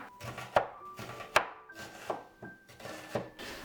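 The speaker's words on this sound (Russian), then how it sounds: "Сначала нарежем лук." A knife chops an onion steadily on a cutting board, several sharp knocks at an uneven pace, close and clear with no talking.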